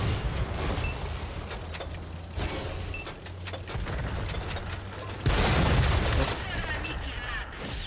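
Tank cannon shots and explosions in a tank battle game, heavy booms and rumbling impacts with a sharp loud blast partway through, while someone talks over the fighting.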